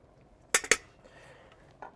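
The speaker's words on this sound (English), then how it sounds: "that little cutter for me is always the best to cut eggs" A small egg slicer cutting through cooked eggs, two quick close metallic wire clinks in rapid succession, then a faint soft tap a second later, in an otherwise quiet kitchen.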